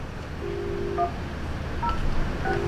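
A telephone intercom handset is dialed, giving a few short, clear keypad tones in sequence over a steady, noisy room background, with no talking.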